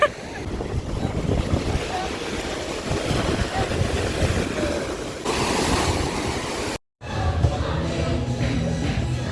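Sea waves wash steadily onto a stony beach at Malgrat de Mar on Spain's coast, a continuous broadband surf with a brief cut partway through before the wash resumes.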